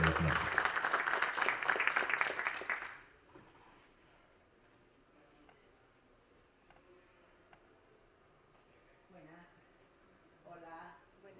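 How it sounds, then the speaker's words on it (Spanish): A crowd claps loudly for about three seconds, then the applause stops abruptly and a quiet room follows with faint speech. "Un aplauso para Mirta Buelvas, la profesora de la Universidad del Atlántico."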